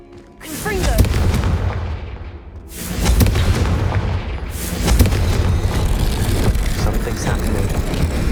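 Confringo spell blast in Hogwarts Legacy, a series of heavy, rumbling booms that swell and roll on one after another, loud and dense, with a voice speaking faintly in the mix.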